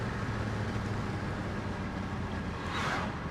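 A Mercedes E500 Renntech idles smoothly with a steady low engine rumble, close and constant, with a brief hiss of wind or air near the end and no talking.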